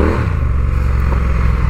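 A motorcycle engine drones at steady power as the bike drifts left and right on a loose off-road surface, a close, continuous low rumble with faint scraping, brief and without talk.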